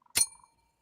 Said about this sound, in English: I have to give that a happy bell.